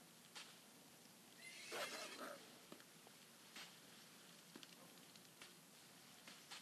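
Horse neighing in the video game SurvivalCraft: one loud, bright whinny around the middle, with faint clip-clop hooves and soft game ambience around it.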